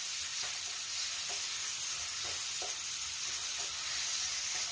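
Cucumber and mixed vegetables stir-fry together in a pan with a steady, soft sizzle and hiss, broken by a few light scrapes as the ingredients are tossed.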